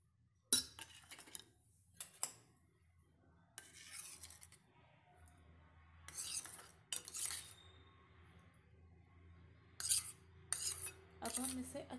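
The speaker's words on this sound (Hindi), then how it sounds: "अब हम इसे अच्छे से मिक्स कर लेंगे और इसका एक डो तैयार करेंगे।" Flour, sugar and ghee being mixed by hand into cookie dough in a bowl, heard as intermittent scraping and clinking bursts of utensil against dish, separated by quiet pauses, close and moderately loud.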